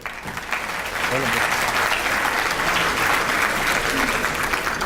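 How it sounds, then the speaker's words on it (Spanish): Strong, sustained applause from an audience at an international scientific meeting welcoming a robotics and biomechanics researcher, dense clapping swelling quickly and holding steady and loud, with a faint voice briefly audible underneath. "Lo recibimos con un fuerte aplauso, por favor."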